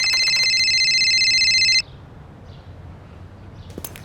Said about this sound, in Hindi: फिर 1 घंटे बाद रंजीत ने कॉल किया मुझे